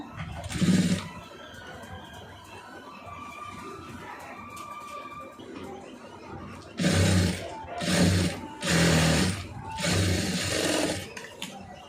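A sewing machine stitching a garment neckline: several loud whirring runs of rapid stitching, separated by short pauses, over a low background hum.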